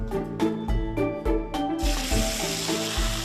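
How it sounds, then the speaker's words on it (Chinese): Fresh chili peppers are stir-fried over high heat, a bright, hissing sizzle that starts about halfway through and continues steadily, following a stretch of rhythmic musical tones. "大火爆炒，清爽中带着一丝甘甜"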